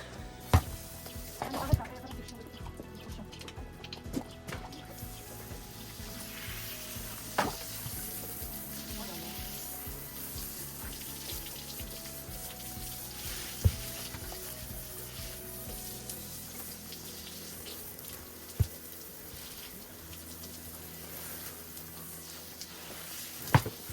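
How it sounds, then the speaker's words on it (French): Hose or shower water spraying as a horse is rinsed after a show-jumping competition, a continuous hiss running throughout with occasional clanks and knocks and brief voices in the background. "Allez, on va aller à la douche, ma fille."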